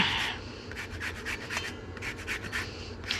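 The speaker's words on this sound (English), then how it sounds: "the best tool for making lemon zest or any kind of zest on the planet" Rasp grater zesting a lemon, a series of short, scratchy rubbing strokes in an irregular rhythm, fairly quiet and close, with no voices.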